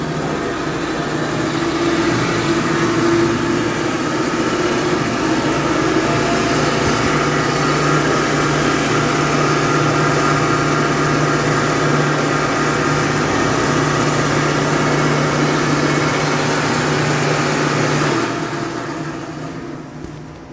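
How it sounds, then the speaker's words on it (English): A Breddo 100-gallon jacketed liquifier runs its scrape-surface agitator, giving a steady, loud mechanical drone with a low motor hum that holds for about eighteen seconds before easing off at the end. "Now we'll be demonstrating the scrape surface agitation."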